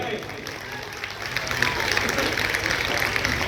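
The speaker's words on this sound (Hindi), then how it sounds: "समस्त ग्रामवासियों की तरफ से एक बार जोरदार तालियां हो जाए।" A village crowd at a development-works address breaks into applause that swells after a moment and continues as dense, steady clapping, with some voices mixed in.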